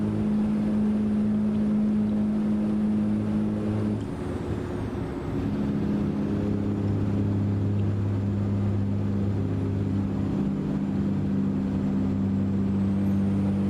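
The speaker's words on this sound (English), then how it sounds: "audio of the truck's too loud" A steady, droning American Truck Simulator truck engine hum that shifts pitch a few times as it changes gears, loud and continuous with no speech.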